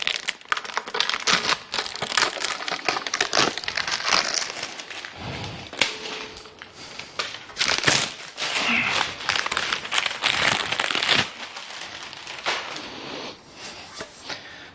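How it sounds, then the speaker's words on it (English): Shrink wrap plastic crinkles and tears as it is peeled off a matte black powder-coated Tab Performance slip-on muffler for a Harley-Davidson, with bursts of rustling and crackling up close. "So we'll get this shrink wrap plastic off."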